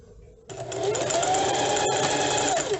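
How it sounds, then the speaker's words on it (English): A sewing machine stitches around a small fabric zipper pouch, its motor starting abruptly and then humming steadily and close with a rapid needle rhythm, no talking over it. "So now we're going to sew all the way around."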